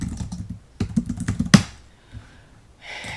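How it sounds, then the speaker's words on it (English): Quick clusters of keystrokes on a computer keyboard, close and crisp, a burst of rapid taps then a pause and a final key press, with no talking. "so I'll type that in too."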